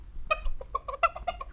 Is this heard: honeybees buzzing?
no